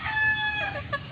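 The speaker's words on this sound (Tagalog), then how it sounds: "Ayan, yung mga manok." Fighting roosters kept near a cockfighting arena give a short burst of close, loud clucking and crowing, a brief sharp cry that rises and breaks off.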